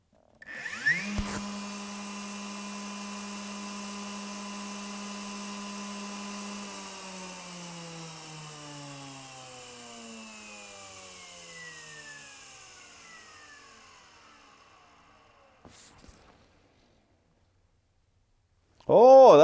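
A DeWalt battery framing nailer with its flywheel driven by an outrunner motor spins up sharply, whines steadily, then winds down in a long falling tone before silence, a brief later noise, and a loud burst at the end.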